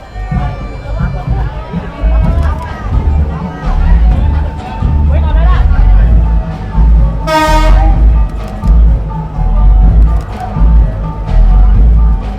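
A KRL Jakarta commuter electric train rolls past loudly and close, with steady wheel and motor rumble, and its horn gives one short sharp toot midway while someone talks over the noise.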